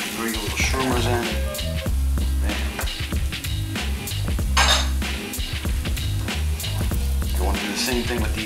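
Mushrooms sizzling in melted butter in a frying pan, a steady bright hiss broken by frequent metallic clinks and scrapes of utensil against pan, fairly loud and close throughout.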